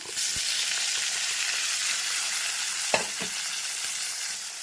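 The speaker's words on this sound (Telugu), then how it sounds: "ఇప్పుడు ఆనియన్స్ వేసేస్తామండి. ఇలా మనకి వేగితే సరిపోతుంది." Onions sizzle and fry steadily in a hot pan while a curry is cooked, with a constant broad crackle and a couple of brief utensil clicks partway through.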